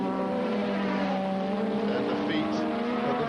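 Formula 1 race cars, Senna's Lotus among them, scream past with a sustained, high, droning engine note and shifting tones, loud and continuous, while a commentator talks.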